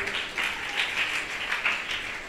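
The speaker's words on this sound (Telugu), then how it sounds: "చప్పట్లు కొట్టండి గట్టిగా" An audience claps at a Telugu gospel revival meeting in Madras, a dense, steady wash of applause with rhythmic swells throughout, fairly loud and without speech over it.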